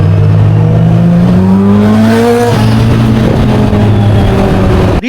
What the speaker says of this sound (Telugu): ఇప్పుడు ఆక్రా ఫుల్ సిస్టమ్ సౌండ్ వినండి.